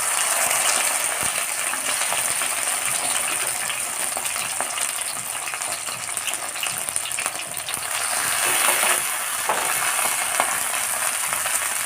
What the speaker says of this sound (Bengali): তেলটা আমার গরম হয়ে গেছে। এই সময় আমি তিনটে করে ভাজবো।